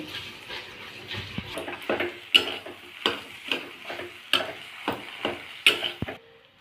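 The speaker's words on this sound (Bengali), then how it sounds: "এখন মশলার সাথে আলুটাও বেশ কিছুক্ষণ আমরা কষিয়ে নেব বা ভালোভাবে ভেজে নেব" Mashed boiled potato fried with spices in a pan for paratha filling gives a soft sizzle under repeated sharp scraping and tapping of a spoon against the pan, close and moderately loud.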